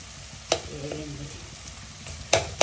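A spoon stirs onions with a garlic, ginger and masala paste in a kadai, giving a steady low sizzle of frying with a few sharp scrapes and taps against the pan.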